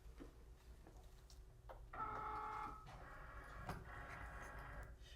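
A Cricut Maker cutting machine draws in a cutting mat with a faint mechanical whir, made of short motor runs with small ticks between them in a quiet room.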